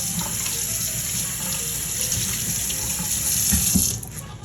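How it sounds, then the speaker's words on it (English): Running tap water splashing steadily into a sink, with soft shifting as a bell pepper is rinsed under the stream, then the flow cuts off. "about to wash it and rinse it off"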